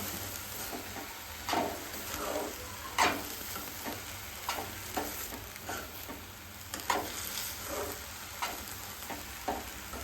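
Carrot halwa cooking in milk in a pan, a soft bubbling sizzle beneath irregular scraping strokes from a stirring spoon, close but fairly quiet, with no voices.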